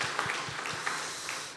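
A church congregation at Sunday service claps to welcome visitors, a brief patter of applause with soft, uneven hand claps in a room.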